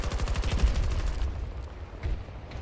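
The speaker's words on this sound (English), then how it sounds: "Ooh, this AK, dude." Rapid automatic AK rifle fire in the video game Battlefield 2042 rattles close and loud for over a second, then stops, leaving faint ambient game noise.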